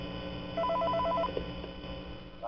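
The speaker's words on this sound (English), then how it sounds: "Ooh, there's a phone call." In Five Nights at Freddy's 3, a telephone rings with a short run of rapid electronic trills that stop after under a second, leaving a low ambient hum.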